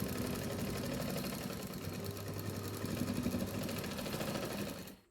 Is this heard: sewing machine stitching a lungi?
yes